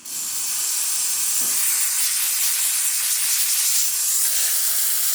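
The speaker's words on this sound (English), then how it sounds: "So let's test the steamer. Steam on." The steam wand of a freshly serviced Profitec Pro espresso machine lets out a loud, steady, close hiss that starts abruptly and holds without a break.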